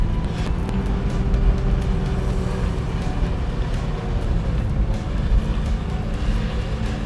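A car accelerates up a steep road, its engine a steady, loud low drone heard from inside the cabin with constant road rumble and no speech.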